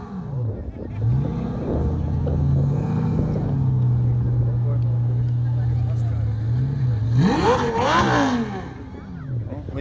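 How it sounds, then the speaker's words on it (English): At the Lytham car show, a car engine idles with a steady low drone for several seconds, then revs up sharply near the end, close and loud, with people talking in the background. "Well, at least the engine works."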